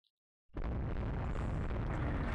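Heavy explosions from airstrikes in the naval strategy game Rule The Waves 3, set in 1890 Italy, burst in after a short silence and hold as a loud, continuous rumbling roar for the rest of the clip.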